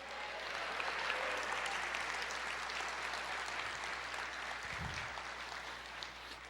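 Church congregation applauding, a continuous even wash of clapping heard at a distance and fairly faint, steady for several seconds without pause.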